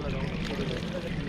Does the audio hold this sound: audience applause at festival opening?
no